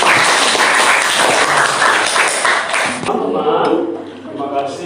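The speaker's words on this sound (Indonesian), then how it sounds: "beri tepuk tangan yang meriah untuk" Students in a classroom clap loudly for a presenting group, a dense burst of applause for about three seconds that fades into scattered claps and room murmur.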